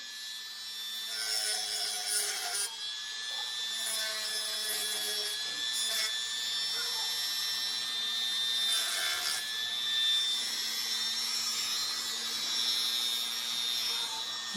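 Hand sanding and smoothing on a John Deere 8R tractor model before paint, around the spot for the weight bracket, produce a steady close rasping rub with bursts of stronger scraping strokes.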